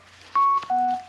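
A Sony SRS-XB43 Bluetooth speaker plays its short connection chime, a few clear electronic tones in quick succession, loud and close with no talk.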